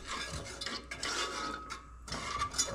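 A metal whisk stirs orange cake batter in a bowl, giving a steady, close scraping and clinking of wire against the sides, continuous with brief pauses.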